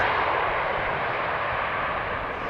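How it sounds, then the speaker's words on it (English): An Embraer E2 airliner touches down on runway 18R at Amsterdam Schiphol, banking into a crosswind. Its engines give a steady, broad jet roar that holds loud and constant throughout. "with the left main landing gear touching the ground just a little earlier than the right"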